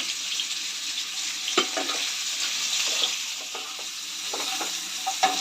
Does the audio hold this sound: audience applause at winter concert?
no